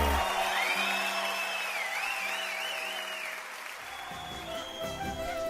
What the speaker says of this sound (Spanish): con el caluroso aplauso del público presente